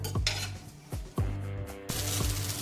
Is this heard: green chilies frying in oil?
yes